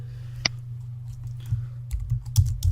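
Quick bursts of typing on a computer keyboard, clustered clicks that come close and clear over a low steady hum, with one sharp isolated tap early on.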